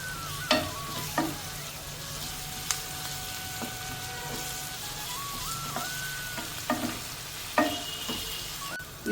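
Onion with ginger-garlic paste sizzles steadily in a pan for pepper chicken, a constant frying hiss broken by several short scraping stirs of a spoon against the pan, close and fairly quiet.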